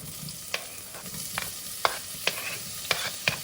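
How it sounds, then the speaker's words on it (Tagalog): Sliced onions going into a hot pan for kinamatisang pampano, frying with a steady sizzle under a series of sharp scraping stirs about every half second, close up and with no talking. "mainit na yung pan mo, then lagay mo na yung sibuyas"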